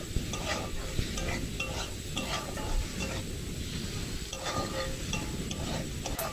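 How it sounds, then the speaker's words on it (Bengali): Rohu fish oil and fat fry in a pan and are stirred, a continuous sizzle with repeated rhythmic spatula taps and scrapes against the metal. "এবার দিয়ে দিচ্ছি মাছের তেলটা। এবার সুন্দর করে নেড়ে নিচ্ছি।"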